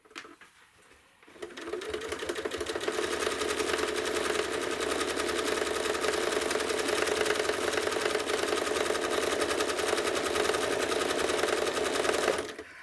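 A sewing machine stitches a quilt in the ditch, starting after a brief quiet moment and then running in a fast, steady, close-up mechanical whir for about ten seconds before stopping.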